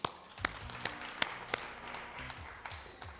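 An audience applauds in a talk-show studio, scattered claps popping over a soft, brief round of clapping that tapers off.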